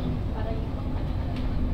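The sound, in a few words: LRT 1 light rail train leaving the station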